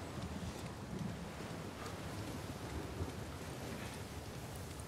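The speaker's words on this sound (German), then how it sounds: "das ist halt mit der beste Regeneffekt, Gewittereffekt, den ich jemals auf der PS4 sehen konnte" Heavy rain pours steadily in Uncharted 4, a dense, continuous wash of drops with low thunder rumbling underneath and gusts of wind, filling the scene evenly from start to finish.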